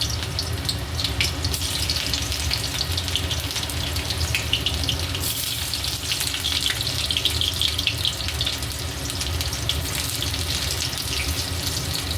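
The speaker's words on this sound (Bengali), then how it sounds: "তেলটা গরম হয়ে গেছে এর মধ্যে সামান্য কুচিয়ে রাখা পেঁয়াজগুলো আমি দিয়ে দিলাম" Chopped onions frying in hot oil for a Bengali kabuli chana dish, a steady broadband hiss like running water that holds without a break for the whole stretch, close and continuous, with no talking.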